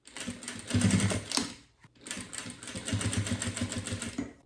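A sewing machine stitches through fabric and clear plastic on a double pencil case: a rapid mechanical chatter runs in two bursts, with a brief pause near the middle, close and fairly loud with no voices.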